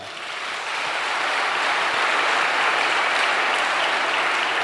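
A church congregation applauding in praise during a sermon, a dense, sustained roar of many clapping hands that rises quickly and holds steady.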